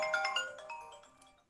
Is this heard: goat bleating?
no